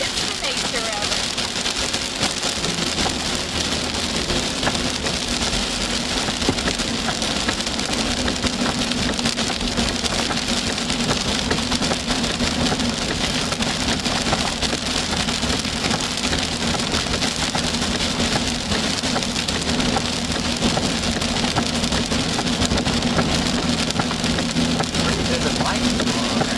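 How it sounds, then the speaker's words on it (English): Heavy rain pounds a storm chasers' vehicle during severe Oklahoma storms, a dense, unbroken roar of drops drumming the roof throughout, with voices now and then underneath. "We sometimes have a hard time hearing each other, especially when it's raining really hard."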